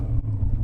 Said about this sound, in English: 540 with the V8, it sounds almost like an exotic car